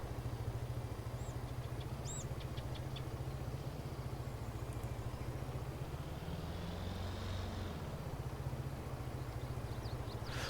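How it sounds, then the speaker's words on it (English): A small vehicle's engine runs steadily in Farming Simulator 22, a constant low droning hum with a rhythmic pulse that holds throughout, loud and close with no talk over it. "I love the sound of the engine on this little thing."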